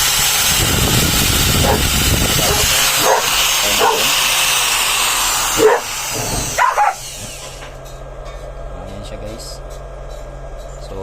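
An angle grinder powered from a simple home solar setup runs as a loud, steady whine for about seven seconds, then cuts out, leaving a quieter background hum.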